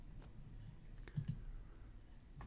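A computer mouse clicks quietly during work in Home Designer software, with a couple of close, soft clicks and a faint tap or two over low background hum.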